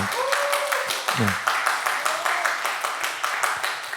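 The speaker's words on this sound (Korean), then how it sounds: "박수 부탁드리겠습니다" Church youth-group audience applauds during a Sunday worship gathering, a steady wash of clapping throughout, with a voice briefly audible in the background.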